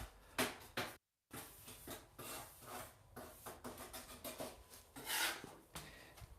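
Sponge rubbing and scrubbing over freshly grouted bathroom floor tile, a continuous close rasping swish in repeated strokes with one brief pause, no talking.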